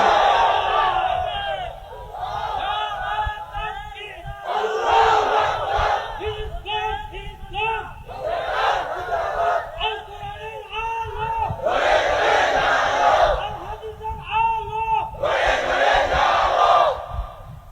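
A large crowd chants takbir at a religious gathering, answering a lead voice in loud call-and-response waves that rise and fall repeatedly, close and forceful.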